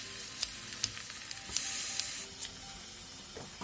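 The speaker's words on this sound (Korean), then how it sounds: "멸치를 마른 팬에 볶아주고" Anchovies dry-stir-fry in an unoiled pan for a Korean braised kimchi side dish, giving a soft, steady sizzle with faint scattered pops and occasional light scraping clicks from stirring.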